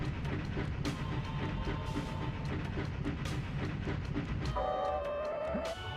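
A train in MediEvil rolls along with a steady rhythmic clatter of wheels and sharp periodic clicks, then a high metallic squeal or whistle tone rises near the end, all heard without talking.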